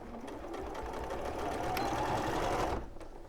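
A sewing machine stitches a fiddly seam on a fabric love bird toy, a fast even whirring run that rises slightly and then stops abruptly near the end.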